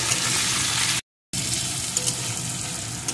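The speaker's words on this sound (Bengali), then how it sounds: "এর ভিতরে দিয়ে দেবো আমি একটা কোচানো পেঁয়াজ। এটাকেও একটু ভেজে নেব।" Chopped onion frying with garlic in a pan for a bhetki fish bone chorchori, a close steady sizzle broken by one short dead gap, with faint stirring scrapes and no talk.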